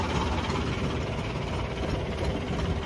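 A tractor engine idling close by, a steady low rumble and chug with constant vibration that runs unbroken and without talk over it.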